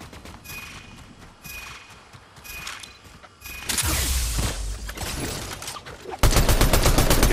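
Gunfire in a video game: scattered single shots and mechanical clicks at first, then a loud, dense burst of rapid automatic fire that thickens into a near-continuous barrage at the end.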